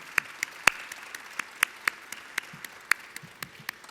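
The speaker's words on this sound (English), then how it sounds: "Let's give him a round of applause, Mr. Rick Cotton." Sparse, scattered clapping from a small crowd at a government ceremony unveiling a new LaGuardia Airport terminal, individual claps audible at uneven intervals, faint and thin rather than a full ovation.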